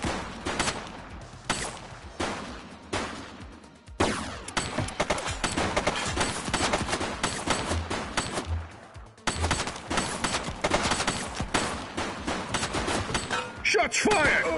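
Sustained gunfire in The Precinct video game, dense rapid volleys of sharp cracks that keep up almost without pause, loud and close, with a couple of abrupt breaks and some faint voices mixed in.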